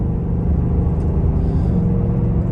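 A 2021 Ford Mustang Mach 1 cruising at light throttle gives a steady, deep engine rumble heard from inside the car, smooth and even throughout.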